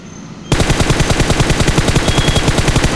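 Rapid automatic gunfire from a squad-based video game shooter bursts in after a brief quiet moment, loud and close, with evenly spaced shots rattling continuously to the end.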